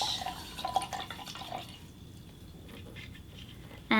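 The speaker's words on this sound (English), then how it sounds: "Rinse out my brush." A paintbrush swished and rinsed in a water cup while painting pottery, giving a few soft close splashes and drips that fade to quiet before a brief clink at the end.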